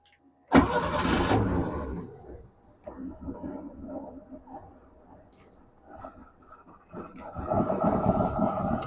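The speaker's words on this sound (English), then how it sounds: "let's start the engine for now" A boat engine cranks and catches close by, settling into an uneven idle before revving up louder near the end.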